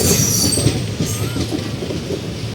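The Garudadri Express pulls out of Avadi station with a steady, loud rumble of rolling wagons and wheels on the rails, and a faint high wheel squeal rides over the clatter.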